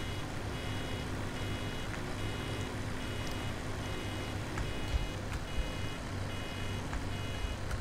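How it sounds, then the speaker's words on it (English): In the Farming Simulator 17 video game, a vehicle reverses with a steady, evenly spaced electronic beep that repeats throughout over a constant engine drone, with no talking. "I was wondering what that annoying beeping noise was."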